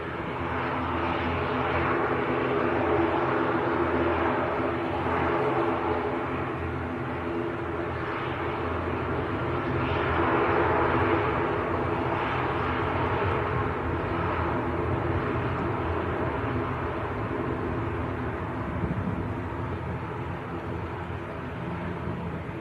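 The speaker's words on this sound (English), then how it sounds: "Looks like British Airways will be next to go. Yep, going back down to London Heathrow." A British Airways airliner departs Manchester Airport for London Heathrow, its jet engines a sustained broad roar that swells and holds steadily at a distance for over twenty seconds with no talking.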